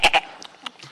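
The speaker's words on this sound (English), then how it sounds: "I heard something from a goat." A short goat bleat, two quick loud bursts up front followed by fainter wavering cries, heard close and alone in a brief moment.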